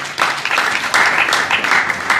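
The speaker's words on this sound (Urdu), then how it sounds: "تو بھرپور تالی عقیل دانش صاحب کے لیے ہونی چاہیے جناب" Audience applause at a book launch celebrating Aqeel Danish, dense and steady for about two seconds, filling the room without a break.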